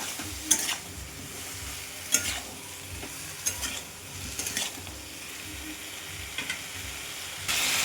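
Food sautéing in a pan with salt, turmeric and cumin powder, giving a steady low sizzle broken by repeated scraping stirs of a spatula, close and moderately loud, and no talk.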